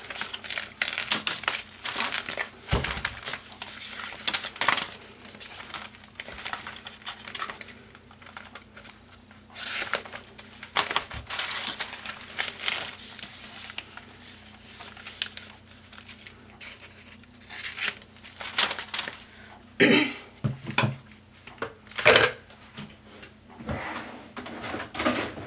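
Foil strips being cut for a journal page: intermittent crinkling snips and rustles, close and fairly quiet, in irregular bursts with pauses between.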